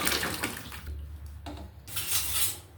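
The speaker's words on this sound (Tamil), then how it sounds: "தட்டைப்பயிர் ஊற்றிக்கலாங்க" Boiled cowpeas are poured into a pot of tamarind curry, giving close splashy watery pours in bursts with brief pauses and light clinks of a vessel, no talk.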